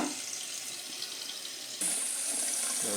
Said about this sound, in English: So that's to wash off the nozzle.